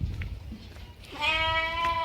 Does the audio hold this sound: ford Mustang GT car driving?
no